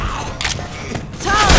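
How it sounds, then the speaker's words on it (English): Weapon reloading in Left 4 Dead 2: a few quick metallic clicks and clacks of a gun being reloaded, close and fairly loud over a steady game background rumble. "Reloading."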